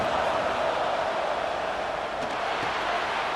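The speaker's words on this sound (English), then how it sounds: "And here comes the noise. This crowd is trying to inspire this defense" Broad, steady roar of a large stadium crowd at a college football game in a video game, loud and continuous with no clear voices standing out.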